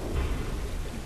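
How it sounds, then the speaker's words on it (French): A thunderstorm rumbles in The Last of Us, a low continuous roll of thunder with rain hiss, steady and fairly loud for about a second. "c'est juste un orage."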